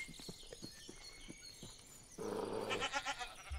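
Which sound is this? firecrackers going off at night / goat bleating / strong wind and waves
goat bleating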